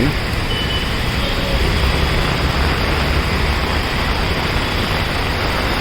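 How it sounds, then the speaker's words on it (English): Dense, steady hiss of heavy monsoon rain pouring down on a Mumbai street, continuous and loud with a faint low rumble of traffic underneath. "Nice heavy rain"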